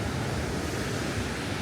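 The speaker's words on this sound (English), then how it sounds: "I want you to hear the waves" Rough surf on a Florida Gulf beach at Blue Mountain Beach roars in a steady, broad wash of breaking waves, mixed with wind buffeting the microphone, with no voices.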